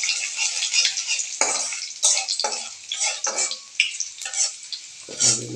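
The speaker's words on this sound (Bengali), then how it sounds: "তো এখানে দিয়ে দিচ্ছে রসুন, রসুনগুলো হালকা ভেজে নিচ্ছে।" Garlic frying in a pan, a steady crackling sizzle with repeated scrapes and knocks of stirring at close range, no voices.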